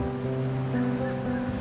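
Ocean waves along the Kerala coast as a continuous wash of surf under steady droning tones, loud and close with no distinct breaks between swells.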